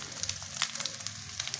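Sardine and egg omelette frying in a pan, a close crackling sizzle dotted with quick popping spatters over a low steady hiss.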